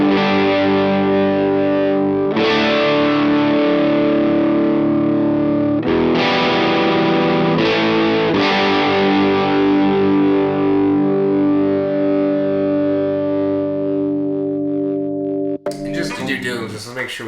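Electric guitar chord strummed through a JHS Angry Charlie into a Boss Blues Driver, several distorted chords ringing out with long sustain, loud and close, ending in a brief clatter of handling noise.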